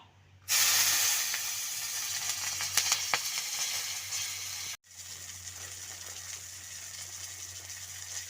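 Green chilies dropped into leftover fish-frying oil in an iron wok burst into a loud, spraying sizzle that drops off sharply, then continues as a quieter steady hiss.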